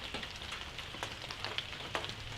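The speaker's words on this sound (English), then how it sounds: "the rain had kind of picked up and was now beating down on top of the shed" Heavy rain drums steadily on a shed roof during deer season, a dense, continuous patter with a few sharper drops standing out, close and fairly quiet with no talking.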